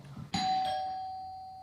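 A chime rings out from a Google Nest Doorbell 3rd Gen, a single bright struck tone that sounds once and then slowly fades, heard fairly close after a short stretch of low background noise.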